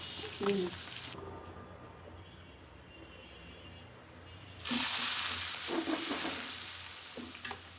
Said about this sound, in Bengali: মাছগুলো ভাজা হতে থাকুক